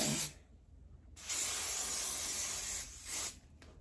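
A short spritz, then a long steady hiss of aerosol hair spray on a lace wig, followed by another brief burst, close by and fairly quiet.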